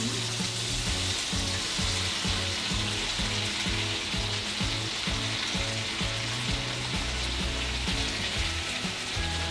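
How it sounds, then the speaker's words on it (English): Tortillas fry in hot oil for a Mexican Christmas recipe, giving off a loud, constant close sizzle with a busy bubbling texture and no voices. "now we're just gonna wait until the tortillas are fried"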